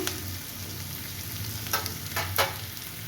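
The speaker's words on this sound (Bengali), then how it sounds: "আমার পেঁয়াজটা খুব সুন্দর করে ভাজা হয়ে গেছে দেখুন" Steady sizzling of onions frying in a pan for chicken curry, with a few brief scraping stirs partway through; no voices.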